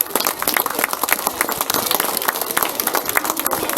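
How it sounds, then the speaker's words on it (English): Students in a room applauding themselves, a dense patter of many hands clapping steadily for several seconds at moderate volume, with no clear talk over it. "Give yourselves a round of applause."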